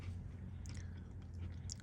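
A dry, crunchy Spanish cracker-style biscuit being chewed close up, with faint crisp crunches over a low background hum.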